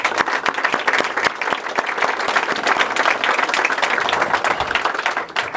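Guests at a Palestine reception in the UK Parliament burst into loud, close applause, a dense rapid patter of many hands with a few crisp individual claps standing out, sustained for several seconds with no talking.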